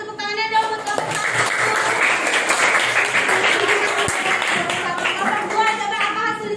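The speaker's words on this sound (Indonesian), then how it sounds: "Tepuk tangannya dong buat kelompok 1." Classroom students applaud group 1 after its presentation, a steady loud patter of many hands lasting throughout, with voices and a teacher's speech mixed in over the clapping.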